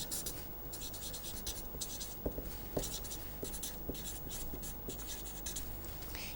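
Marker or chalk writing on a lecture board, a steady run of scratchy strokes with a few sharp taps as letters are formed, close and fairly loud in a quiet room with no talk.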